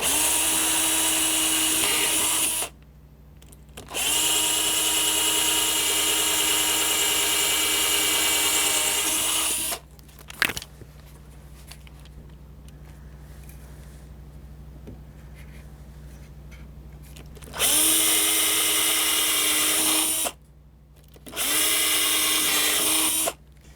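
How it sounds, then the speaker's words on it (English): A power drill whines loudly in several sustained bursts, pausing in between, as it bores holes into wooden table legs; fairly close and steady pitch. "I want to drill holes into the legs themselves so I don't split them out"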